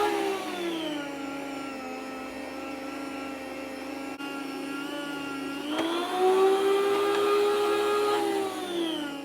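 An electric slicer cutting homemade bread hums with a steady motor whine throughout, its pitch rising and loudening partway through as the blade works, with no talk.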